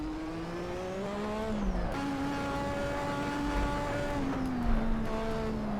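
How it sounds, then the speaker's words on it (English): Manual gear changes in a racing car in the Assetto Corsa video game: a steady engine whine climbs in pitch, drops sharply at each upshift around two seconds in and again near four seconds, then continues under a constant roar, with no talking. "so you might hear me change gear"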